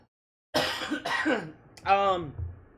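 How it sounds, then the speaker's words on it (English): One person coughs in a couple of sharp, close bursts after a moment of silence, ending in a voiced, throaty trailing sound. "I'm gonna cough."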